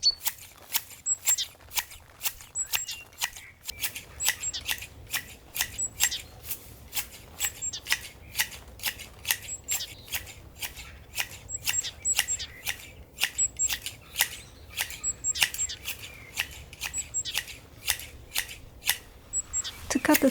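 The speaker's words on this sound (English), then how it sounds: "I usually start with holding my shears the wrong side up, making it easier to create that round shape" Hand garden shears clip a box topiary dome in a garden, giving a long run of sharp, regular snips at close range with brief gaps between them, as birds chirp faintly in the background.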